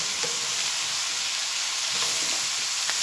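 Onions and meat sautéing in a pot, a steady close hiss of sizzling with faint occasional stirring clicks, no voices.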